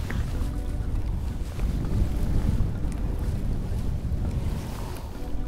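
Wind at a shoreline fishing spot: steady, rumbling gusts buffet the microphone with a constant low roar and no voices.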